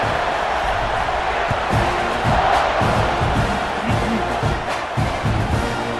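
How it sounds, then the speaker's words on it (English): A stadium crowd in the EA College Football 26 video game buzzes after a score, a dense, steady roar of many voices with scattered shouts, loud and continuous throughout. "this crowd is buzzing after that last score"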